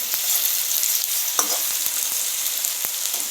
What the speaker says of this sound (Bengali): আগে থেকে করে রাখা আদা কুচি, রসুন কুচি ও পেঁয়াজ কুচি দিয়ে দিচ্ছি একসঙ্গে। আমরা দেওয়া হলে ভালোভাবে নেড়ে নেব।